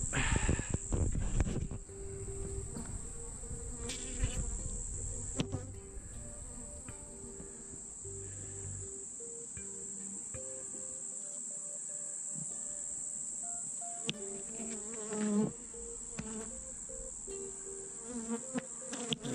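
Honey bees drone continuously in a steady, high buzz during a hive inspection, with occasional closer passes of an agitated bee and some faint handling noises.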